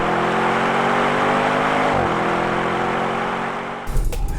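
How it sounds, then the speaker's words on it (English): An Audi RSQ8 sports SUV's engine roars steadily as it accelerates hard, its exhaust tone shifting after a gear change, then fading into rumbling thuds. "You put your foot down and it just leaves."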